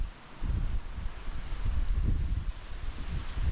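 Steady wind buffets the microphone at a lakeside campsite with a low, rumbling roar that swells and fades slightly, with no other clear sounds.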